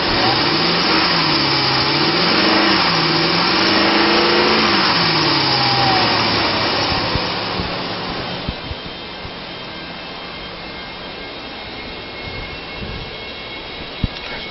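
A 2006 Dodge Ram 1500 pickup with a 4.7 liter engine and automatic transmission runs steadily, its loud engine hum rising and falling in pitch early on, then settling to a quieter idle with small clicks.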